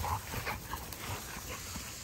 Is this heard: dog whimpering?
yes